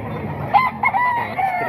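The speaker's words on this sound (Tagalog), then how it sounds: "Ito mga manok pa ito ni Boss Jun" A gamefowl rooster of the SBR bloodline crows close by, one loud drawn-out call with several rising and falling tones lasting under two seconds.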